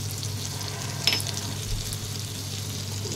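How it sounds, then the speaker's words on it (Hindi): Cumin seeds sizzle in butter and oil in a pan with a continuous close hiss and fine crackle, broken by one brief sharp clink about a second in. "पैन में तो साथ ही थोड़ा बटर डाल देंगे अब इसमें डाल देते हैं थोड़ा सा जीरा"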